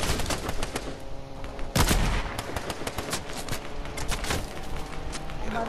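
Rapid video game gunfire in Fortnite, sustained bursts of automatic shots with a heavier blast near the two-second mark, loud and continuous throughout.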